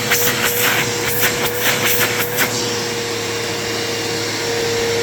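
A Bissell PowerForce bagless vacuum cleaner runs loud and close with a steady motor whine and rushing airflow, with a few knocks and rattles over the first half.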